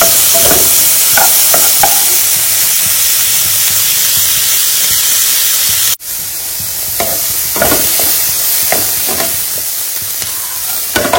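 Onion and mixed vegetables sizzle and hiss steadily in a hot pan for a breakfast recipe, with occasional stirring scrapes and a brief jolt midway; no talking.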